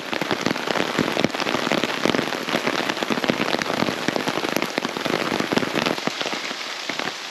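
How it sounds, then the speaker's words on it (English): Rain falling on a hiking trail along a four-wheel-drive road among small pine trees on Raiatea, French Polynesia, a dense, close patter of drops hitting surfaces, steady and fairly loud throughout with no talking. "It's raining."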